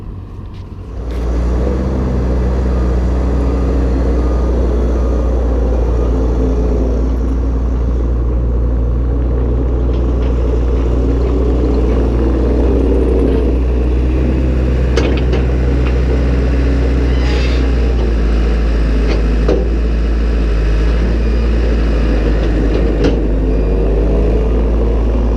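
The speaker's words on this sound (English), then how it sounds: "I'm going to just use the skid steer and load up a couple more bales on here" Skid steer loader engine running while loading hay bales ahead of a snow storm, a loud steady low diesel rumble with occasional clanks, close and continuous throughout.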